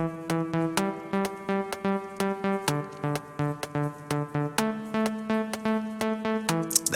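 A synthesizer bass line programmed in Reason plays back, a looping pattern of punchy plucked notes with bright attacks and shifting pitches, steady and alone with no talking.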